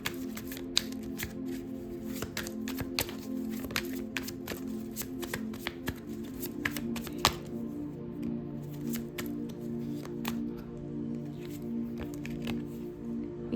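Tarot cards are shuffled by hand close up, giving a long run of quick, soft riffling and flicking taps in an irregular rhythm with no voices.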